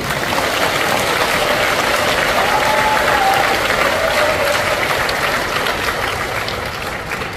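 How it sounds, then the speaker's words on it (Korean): An audience at a company launch ceremony claps in a dense, loud, sustained burst of applause that fills the room and tapers slightly toward the end, with no voices over it. "박수 한번."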